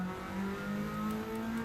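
The Espace F1 race car's engine drones with a steady, fairly loud, sustained tone, holding almost level as it runs through Gran Turismo 7.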